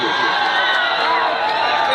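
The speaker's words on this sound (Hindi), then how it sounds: "एक बार जोरदार ताली और गौरव के साथ बजा दीजिए।" A large crowd at a lively public gathering claps and cheers in a dense, steady roar that stays loud and close throughout without a break.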